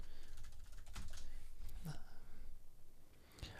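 Quick, light clatter of keys on a computer keyboard, bursts of close taps with short pauses between them, quiet and alone.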